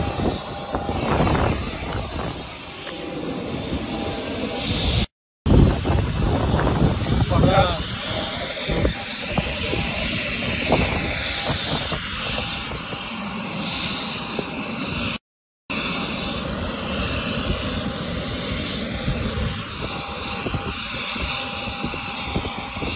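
A private jet's engines roar loudly and continuously, rising and falling with turbine whine as the aircraft moves nearby, with voices talking over the noise and two brief dropouts.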